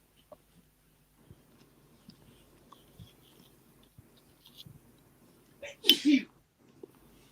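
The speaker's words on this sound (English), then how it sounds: "Who just sneezed?" A single sharp sneeze bursts out near the end, close and loud, after a stretch of quiet room noise with faint scattered knocks and rustles.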